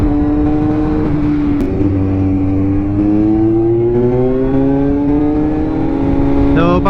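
Kawasaki Z900 motorcycle engine revving steadily and loudly up close, with rising and falling engine pitch throughout and no talk.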